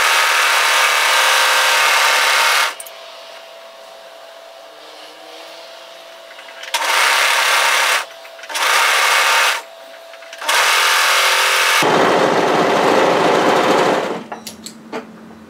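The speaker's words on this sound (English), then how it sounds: "let's go to our overlocker and tidy those seams up" An overlocker sewing machine stitches fabric seams in several loud bursts of steady buzzing whir, separated by short pauses with a faint motor hum, and a final burst trails off into a few light clicks.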